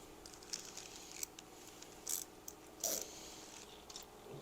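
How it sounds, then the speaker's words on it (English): A small 1/4 inch wrench works an oil line on a 1972 Harley XLCH Ironhead's rocker area, giving faint, sparse ratcheting clicks and metallic ticks over a quiet background. "Grab my little 1/4 inch wrench."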